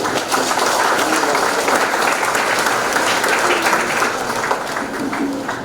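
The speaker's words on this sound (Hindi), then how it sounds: "एक बार आप सभी अपने लिए तालियां बजाएं।" Audience at a National Space Day 2024 celebration in Port Blair breaks into loud, dense applause, many hands clapping steadily and close for several seconds.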